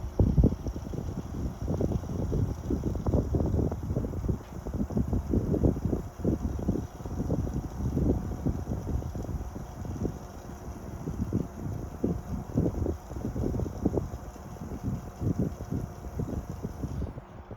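A 1973 Frigid (Mitsubishi) 16-inch oscillating fan, model GT16-S, runs on low speed with a steady airy whoosh and irregular gusty buffeting against the microphone.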